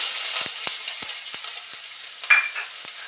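Chopped onion sizzles loudly in hot oil tempered with mustard seeds, cumin and garam masala, a bright constant hiss close up, broken by a few soft stirring scrapes and one brief louder flare.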